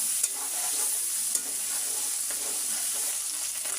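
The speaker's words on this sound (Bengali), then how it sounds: "চিংড়ি মাছটাকে একটু লাল লাল করে ভেজে নেব।" Shrimp fry in hot oil with a steady bright sizzle, punctuated by a few sharp clinks of stirring in the pan, close and continuous without speech.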